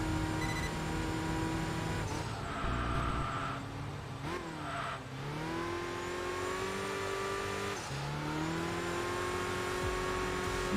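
In Enthusia Professional Racing, a race car takes a very high-speed left-hander on track, its engine droning steadily with pitch dips and rises as it brakes lightly, turns in and accelerates back up to speed.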